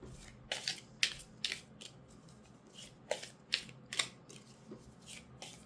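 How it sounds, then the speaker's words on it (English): A tarot deck shuffled by hand up close, a series of quiet crisp riffling bursts at irregular intervals against a soft room hush. "I'm going to just make sure to shuffle this really well"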